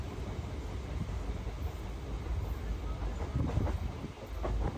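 Steady low rumble of a train rolling on rails, with faint rhythmic clatter building slightly toward the end; no talking.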